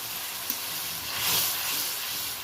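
Hot water spoons into a frying pan during the cooking of a spicy topse fish curry, giving a steady, close sizzle and hiss that swells briefly in the middle, with no talk over it.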